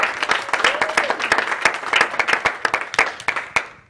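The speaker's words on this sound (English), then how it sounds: "can we get another round of applause for Dr. King and his team?" An audience claps steadily, a crowd's applause of sharp overlapping claps that tapers off at the end.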